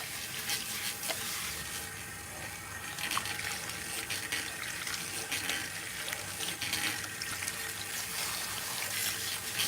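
Water runs steadily from a salon wash-basin sprayer during a hair rinse, a continuous close hiss and splash with no break, and no one speaks over it.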